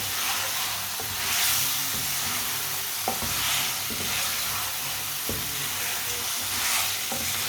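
Eggs cooking in a pan over medium heat in a winter egg recipe, giving a continuous, close, fairly loud sizzle with occasional scraping stirs and small clicks, and no voices.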